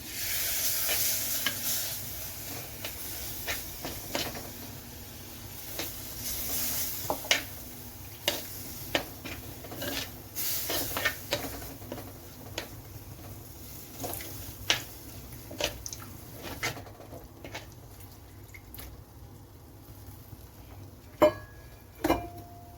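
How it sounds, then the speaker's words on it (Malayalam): Spices being stirred in a pan with repeated spoon scrapes and taps over a continuous low sizzle, then tamarind water being added, while making Kerala-style dry fish curry. "നമ്മുടെ പുളിവെള്ളം ഒഴിച്ച് കൊടുത്തു നമ്മളിതൊന്ന് നന്നായിട്ടൊന്ന് പുരട്ടിയെടുത്തിട്ടുണ്ട്"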